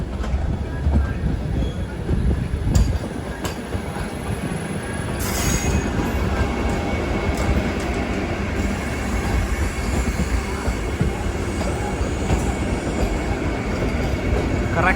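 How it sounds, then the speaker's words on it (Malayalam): The KSR Bengaluru–Dharwad Vande Bharat train rolls into Hubballi Junction, a loud continuous rumble of wheels on rails with occasional squeals and clicks, heard from on board and sustained for the whole stretch. "ബെലഗാവിൽ നിന്നും 142 കിലോമീറ്റർ യാത്ര ചെയ്ത് ട്രെയിൻ ഇതാ ഹുബ്ബള്ളി ജംഗ്ഷൻ റെയിൽവേ സ്റ്റേഷനിലേക്ക് എത്തിക്കൊണ്ടിരിക്കുകയാണ്"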